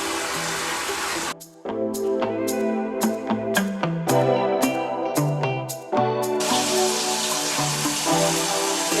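Steady water pours and splashes over a dog during a bath rinse, a continuous close rush broken by a rhythmic run of short knocks and brief gaps midway.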